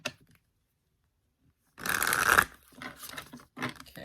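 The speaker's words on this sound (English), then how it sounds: "so I don't have to torture you with my tiny hand shuffling for too long" Tarot cards shuffled by hand make a short, close, papery riffling burst after a stretch of silence, followed by softer scattered handling rustles.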